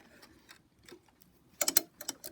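A sewing machine runs short bursts of back stitches while sewing a ruffled sampler quilt block, with quiet intermittent clicks building to a few louder rapid stitching runs near the end.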